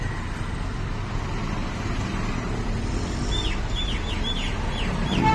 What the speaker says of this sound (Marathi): मला तर खूप आवडतो कोंबड्यांचा आवाज,